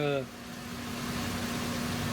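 A 2010 Chevy Impala engine with a vacuum leak idles with a steady low hum and a faint constant tone, after a brief burst of voice at the start.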